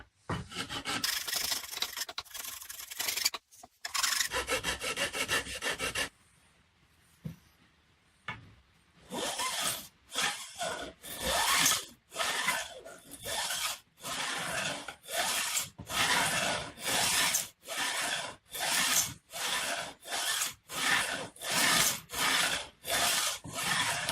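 Rhythmic rasping strokes of a cheap crowning file beveling the edges of guitar frets on a Toronado project, a dense run of scraping, a short pause, then regular back-and-forth strokes.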